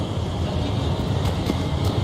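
Steady rushing of waterfalls in a lush paradise-like area of Mass Effect Legendary Edition, a continuous broadband roar with low rumble and faint airy hiss, even and unbroken throughout.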